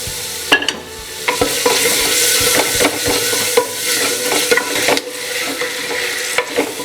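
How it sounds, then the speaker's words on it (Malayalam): Tomatoes and green chilies tossed into frying onions with ginger and garlic for a chicken dish, with repeated sharp spoon strikes against the pan over a continuous close sizzle. "നമുക്ക് ഇനി ഇതിലേക്ക് തക്കാളിയും പച്ചമുളകും കൂടി ഇട്ട് കൊടുക്കാം"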